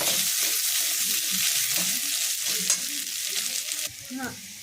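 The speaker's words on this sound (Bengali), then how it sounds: "আলুটা একটু ভাজা ভাজা হয়ে গেছে।" Potatoes fry in a pan for vegetable chops and are stirred now and then. A steady close sizzle is broken by short scrapes and knocks from the spoon.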